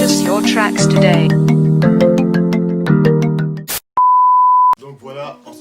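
Music with a strong beat plays, then cuts to a single steady censor beep lasting under a second, followed by a voice speaking.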